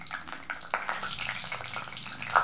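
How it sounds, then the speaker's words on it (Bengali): Dried red chilli and cumin seeds crackle in hot mustard oil in a pan, a soft steady sizzle broken by a few sharper pops, with no one talking. "তেলটা গরম হওয়ার পর দিয়ে দেব শুকনো লঙ্কা একটা দিয়ে দেব, আর সাথে দিয়ে দেব জিরে ফোড়ন।"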